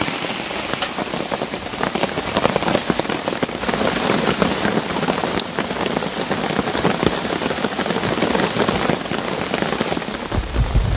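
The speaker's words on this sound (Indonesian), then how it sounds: "Karena cuaca lagi hujan, jadi kami mau masak." Heavy rain pours steadily onto a camping shelter at night, a dense, loud and unbroken hiss of drops drumming on the surface throughout.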